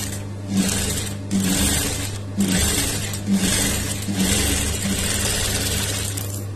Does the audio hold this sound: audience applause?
no